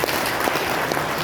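Steady applause from a crowd, a dense wash of clapping that stays even from start to end with no voices over it.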